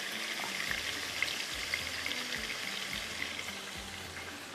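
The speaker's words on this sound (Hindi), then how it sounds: "थोड़ा सा हाई फ्लेम पे भून लीजिएगा" Chicken tikka browning over a high flame, a faint, even sizzle with soft crackles and light spatter at low level, with no talking.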